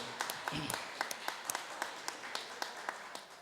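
An audience at a San Jose debate-style event applauds volunteers and organizers, scattered distinct claps over a soft crowd wash, moderately distant and fairly quiet.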